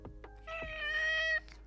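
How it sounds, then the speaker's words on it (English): A cat meows close by, starting with a few short chirps and then a longer drawn-out meow that rises and holds before cutting off. "Meow! Big meow."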